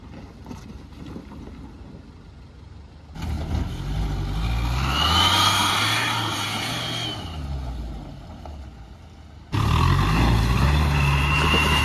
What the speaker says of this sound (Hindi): फुल पावर जा रही है गाड़ी फिर से एक बार